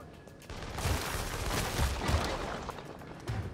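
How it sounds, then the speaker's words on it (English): A barrage of gunfire in the video game inFamous Second Son, a dense, continuous rattle of rapid blasts with a few heavier thumps, moderately loud and heard alone. "And that barrage does a lot of damage."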